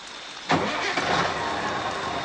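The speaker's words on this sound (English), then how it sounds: "Joe started the engine again." A truck engine cranks and starts at about half a second, then runs with a rough, roaring idle; loud and close, no talk.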